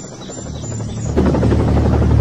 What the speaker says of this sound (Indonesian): Setelah helikopter mendarat, Thomas langsung berlari menghampiri helikop